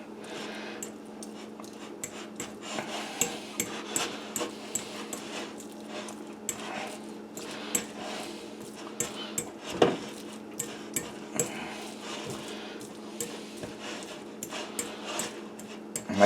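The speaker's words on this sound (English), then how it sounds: "It says to mash them up. Leave a few whole beans, but you kind of want to make a paste." Black beans mashed into a paste in a bowl, repeated light clinks and taps of utensil against dish in an uneven rhythm, close and alone.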